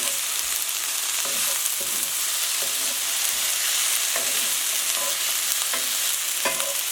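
Sesame chicken sizzles and fries steadily in a pan as a utensil stirs it, scraping in several distinct strokes over a continuous loud hiss, with no talking.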